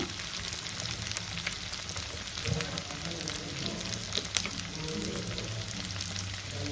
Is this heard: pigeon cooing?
no